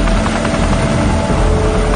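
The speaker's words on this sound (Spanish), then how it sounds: "Se usan helicópteros Chinook para lanzar el agua desde el aire." Chinook helicopters dropping water from the air over the Fukushima nuclear plant give a loud, continuous rotor and engine roar with a dense, steady throb and no talking.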